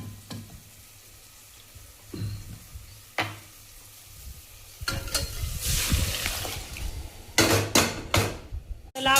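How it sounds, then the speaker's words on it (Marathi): Sambar poured into roasted masala and cooked in a pot, with a scattering of sharp knocks and spoon scrapes followed by a louder stretch of stirring and sizzling bubbling. "चला आपण आता ह्याच्यामध्ये सांबर टाकून घेऊया."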